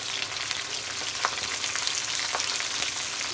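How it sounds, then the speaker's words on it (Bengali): Green chili and onion frying in hot oil, giving a continuous dense crackling sizzle with small pops, steady and close throughout. "তেল গরম হয়ে গেছে তেলের উপরে দিব কাঁচামরিচ পেঁয়াজ"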